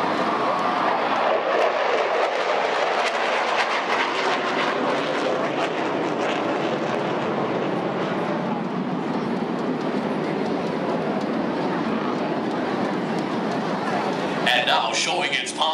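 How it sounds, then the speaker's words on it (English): Two F-16 fighter jets roar overhead in a 4G vertical climb and symmetrical split at a national day show flypast. The jet noise is a loud, continuous rush that lasts throughout, with crowd or announcer voices mixed in. "two F-16s will soar towards the sky, executing a 4G vertical climb and performing a symmetrical split"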